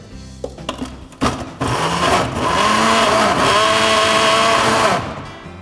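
A blender grinds shallots and garlic into a paste for beef rendang, starting with a few clunks and bumps before the motor spins up into a loud, steady whirring roar that holds for several seconds and then cuts off.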